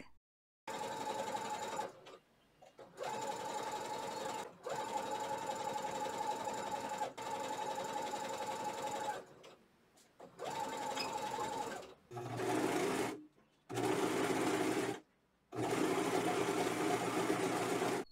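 A sewing machine runs a zigzag overlock seam on a basic dress in long, steady mechanical bursts. It stops and restarts several times with short silent gaps between runs, sounding close and fairly loud with no voices.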